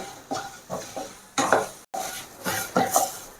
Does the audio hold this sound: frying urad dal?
yes